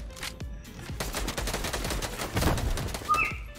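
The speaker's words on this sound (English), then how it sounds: "Gunfire." Rapid bursts of Fortnite gunfire crackle in quick succession, steady and fairly loud, with a couple of brief electronic beeps near the end.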